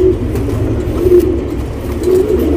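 Pigeons coo in soft, low repeated calls, three or so close phrases over a rumbling background hum, with no voices.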